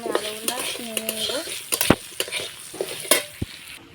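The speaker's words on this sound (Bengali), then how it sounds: "মাংসের জন্য আমি এখানে আলু ভাজতেছি" Potato pieces fry in a pan for a mutton curry, stirred with a utensil that scrapes and clinks against the metal while oil sizzles steadily underneath, with several louder knocks near the end.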